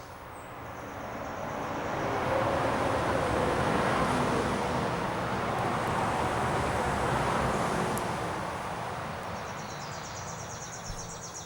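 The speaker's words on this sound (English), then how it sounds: "Sorry about all the car noise." Steady traffic roars past on a nearby road, a continuous broadband rush that swells and fades slightly as vehicles pass.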